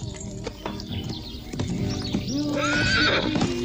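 Horses neigh loudly and close by while hooves clip-clop in an uneven rhythm, the whinnies rising toward the end of the short stretch.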